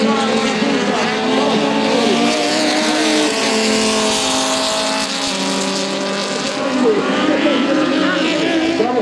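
Ford stock cars on a racetrack at a Fierros meeting in Coronel Suárez, Argentina, roar past in a loud continuous rush of high-revving engines, with a race commentator talking over the noise throughout.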